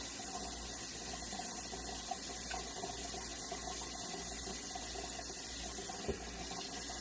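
A tumbler transfer is dunked into warm water, heard as a continuous low splashing and sloshing wash close by with a couple of small knocks, no talking.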